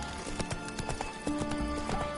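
Hooves of Roach, Geralt's horse in The Witcher 3, clip-clop in a steady trot, close and fairly loud over a faint music-like drone.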